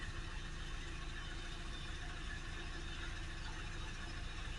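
A Ford Transit MK8 2.2 diesel van, front-wheel drive with a DPF low-temperature and soot accumulation fault, idles with a steady, even engine rumble held at a constant level throughout.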